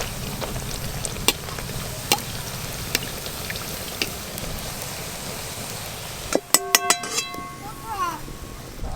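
Suji (semolina) luchi fry in hot oil, a dense crackling sizzle like light rain that carries on steadily, then gives way to a few sharp metallic clinks near the end.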